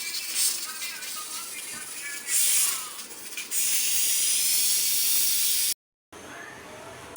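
A pressure cooker on the stove, holding meat curry, vents its steam in a loud, continuous hiss that surges, eases and then holds steady, breaks off briefly and comes back before the end.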